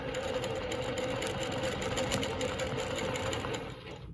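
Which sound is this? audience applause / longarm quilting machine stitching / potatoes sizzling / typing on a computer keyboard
longarm quilting machine stitching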